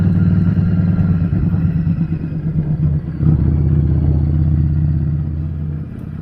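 Motorcycle engine pulling steadily in second gear, a loud close rumble with a brief dip around the middle as the throttle eases, then carrying on until it fades slightly at the end.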